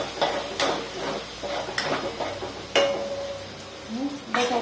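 Coriander paste sautéing in a pan with turmeric and asafoetida, giving soft stirring scrapes and light clinks of a utensil against the pan, close and moderately quiet, with a low background hum.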